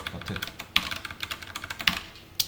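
Code is typed on a computer keyboard for a React lesson in a rapid, uneven run of close clicking keystrokes, a few louder taps standing out, with no talking.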